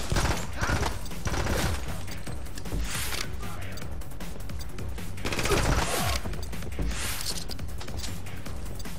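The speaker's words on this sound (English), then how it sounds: "looks like we're working with an Uzi" Uzi gunfire in a video game comes in several rapid bursts spread across the stretch, each loud and sharp, with quieter action sounds filling the gaps between.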